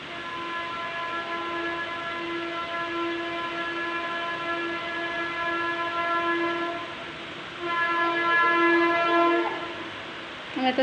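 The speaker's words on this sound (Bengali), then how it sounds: "ট্রেনটাও তো যাচ্ছে, দেখছো।" A train passes near open fields, sounding a long, sustained horn over a steady rumble of rolling wagons; the horn swells louder toward the end, with no one speaking.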